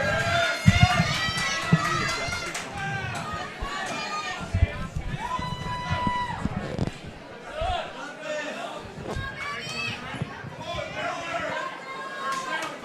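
An MMA event crowd cheers and shouts for fighter Dylan Farris at an amateur title bout, a loud roar of many voices swelling and surging continuously, with an announcer talking over it.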